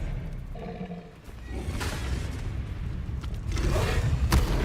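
A spell cast in Hogwarts Legacy lands as a deep booming impact with a whooshing swell, followed by rumbling magical effects that build louder toward the end.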